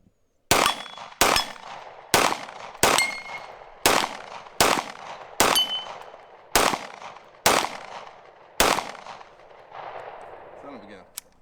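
Ten sharp, loud gunshots from a Foxtrot Mike FM45 fed by a Korean magazine, fired one at a time about a second apart, each with a short echoing decay, followed by a faint metallic clatter.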